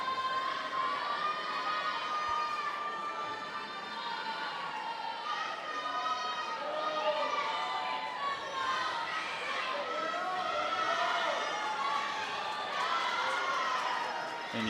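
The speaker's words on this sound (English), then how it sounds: "you can hear her teammates in the very faint background cheering her on" Teammates cheering on a swimmer at a high school league swimming championship; a steady indoor crowd roar of high-pitched shouts and yells runs continuously through the whole stretch beneath a voice talking over it.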